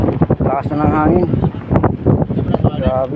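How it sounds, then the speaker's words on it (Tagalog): Strong wind buffets the microphone at a Manila Bay fishing spot, gusting in uneven rushes beneath a voice speaking close by throughout. "Lakas na ng hangin."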